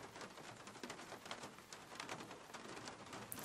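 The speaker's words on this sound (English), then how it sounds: "I drag myself through the rain." Steady rain pours down in a gothic horror visual novel, a dense, even hiss of falling water with scattered droplet patter, continuous and fairly close throughout, with no voices.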